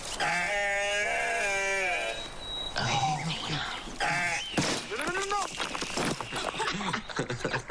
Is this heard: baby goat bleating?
yes